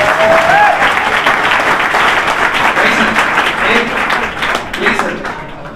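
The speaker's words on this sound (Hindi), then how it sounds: "एक बार जोरदार तालियां बजा दो फिर उठाएंगे।" Loud audience applause at a school opening ceremony in Haryana, a thick continuous roar of clapping from a large crowd, strong from the start and easing a little toward the end, with some voices mixed in.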